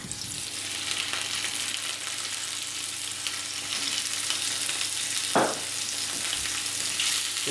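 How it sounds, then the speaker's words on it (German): Potatoes sizzle and crackle steadily in hot oil in a pan, with a brief scrape or stir partway through; no one speaks. "Dafür mache ich ein bisschen Öl in die Pfanne."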